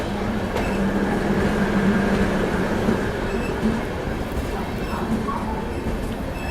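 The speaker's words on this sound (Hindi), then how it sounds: "अभी हमारी ट्रेन देखो प्लेटफॉर्म एंटर कर रही है।" A Duronto express train rolls into a railway platform with a loud, steady rumble of wheels and carriages, faint clicks and squeals over the roar, heard from on board, with no clear speech.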